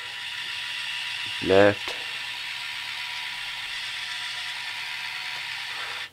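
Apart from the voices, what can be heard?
drive motors of a cheap RC John Deere toy tractor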